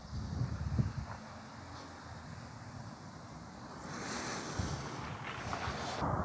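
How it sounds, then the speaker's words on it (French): Wind gusts through a vegetable garden with courgettes in late June, a steady rushing noise that swells louder partway through, buffeting the microphone. "J'espère que le vent n'est pas trop gênant."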